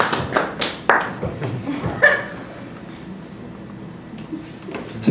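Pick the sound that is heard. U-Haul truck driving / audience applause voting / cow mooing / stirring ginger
audience applause voting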